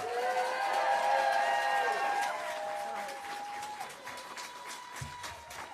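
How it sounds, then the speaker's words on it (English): A crowd applauds and cheers steadily at a senator's election-victory speech, with a loud, continuous wash of clapping and voices that gradually eases. "Let's give a giant round of applause for Senator Tammy Baldwin."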